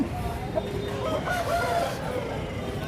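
Roosters crow loudly at a weekly country chicken market in Timiram, Anakapalli district, with a long drawn-out call and clucking fowl around it.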